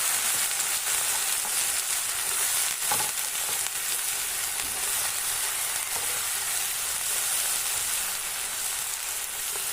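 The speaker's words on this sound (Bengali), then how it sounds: "আদা বাটা। ভালো করে ভেজে নেব। মূলো আলু দিয়ে দেব।" Ginger paste frying in a pan with radish and potato for a Bengali village spinach dish, giving a steady, close hiss of sizzling oil that runs unbroken throughout, with a faint clink of stirring near the middle.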